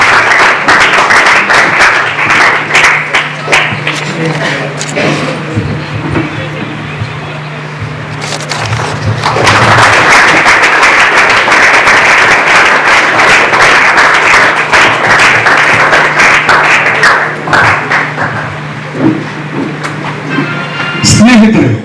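Loud, sustained applause from a ceremony audience honouring Agniveer recruits, dense and continuous throughout with a brief dip midway, swelling again before tapering near the end.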